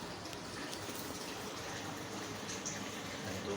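A TCL front-load washing machine takes in water at strong pressure, a steady close rushing hiss that stays level throughout with no talking.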